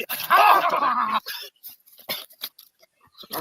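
Trained dog biting during a bite demonstration, heard as a short burst of growling and snarling at the start, followed by quieter scattered scuffling and sharp noises.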